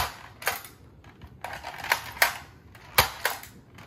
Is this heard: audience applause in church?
no